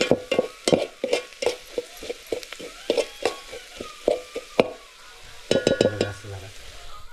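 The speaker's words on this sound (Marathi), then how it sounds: "नाही बघा हे सगळं परतून घ्यायचं आहे" Chicken with chicken masala being sautéed in a pan, a spoon scraping and knocking in a quick regular rhythm over a soft sizzle, close and clear, with a brief clatter near the end.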